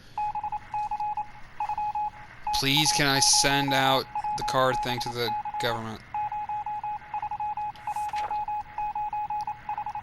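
Morse code beeps crackle over a radio in the video game 60 Seconds! Reatomized, a string of short, evenly pitched tones that keeps pulsing before and after a stretch of someone talking over it.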